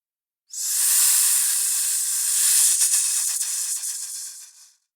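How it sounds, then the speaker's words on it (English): A loud, steady hiss like escaping steam or spray, continuous for several seconds with slight sputtering near the end before cutting off. "Hiss."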